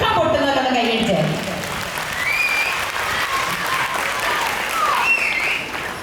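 An audience at a school annual day celebration claps in a dense, sustained burst of applause that stays steady for about six seconds, with scattered voices mixed into the crowd noise.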